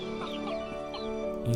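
Chicken clucking from the Apple Arcade puzzle game All of You, a short run of chirpy bird clucks repeating over a steady layer of game music.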